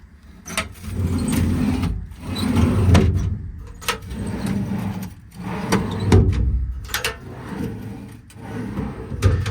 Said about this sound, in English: This drawer set's still fairly decent. A little bit of resistance when you slide it.